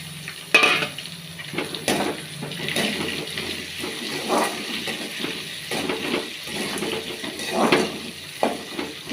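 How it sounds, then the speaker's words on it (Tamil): Tomato and onion sautéing in a pan, with a low background sizzle broken by repeated clinks and scrapes of a spoon stirring against the pan at irregular intervals. "இப்போ தக்காளி வதங்கட்டும்."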